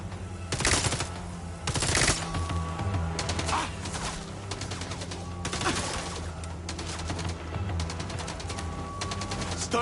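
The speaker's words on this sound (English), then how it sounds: "Stun and shoot." Rapid bursts of gunfire in the PS5 game Mindseye, loud automatic volleys repeating across the whole stretch over a steady low rumble of background game audio.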